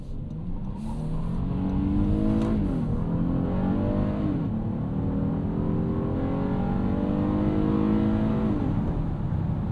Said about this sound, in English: Really quick and precise gear changes from this 10-speed automatic transmission.